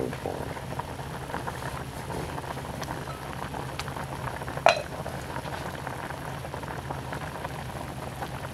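Lechon paksiw bubbles at a steady simmer in a pot, a continuous close fizzing and popping of boiling liquid, with one sharper clink partway through.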